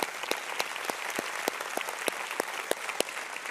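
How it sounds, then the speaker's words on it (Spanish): A church congregation on its feet applauds visiting pastors, a steady wash of clapping with sharp individual claps standing out at a fairly even beat, moderately distant. "Pónganse de pie, queremos darles un buen aplauso."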